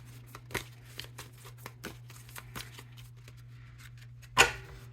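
Thoth tarot cards being shuffled in repeated soft riffling bursts with a steady low hum beneath, ending in one louder, sharper flurry near the close.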